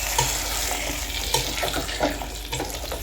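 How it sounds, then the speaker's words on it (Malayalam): Fried tempering is stirred into an Elissery curry of green gram and yam in a pan, giving steady wet sizzling and frying with repeated scraping spoon strokes at close range, with no talking. "നല്ല പോലെ വറുത്തെടുത്ത നമ്മുടെ വറവ് നമ്മൾ കറിയിലേക്ക് ഒഴിച്ച് കൊടുത്തു കേട്ടോ ഇനി നന്നായിട്ട് നമുക്കതൊന്ന് ഇളക്കി കൂട്ടാം"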